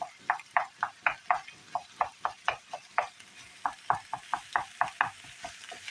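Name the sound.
stirring and breaking up onions cooking in a pan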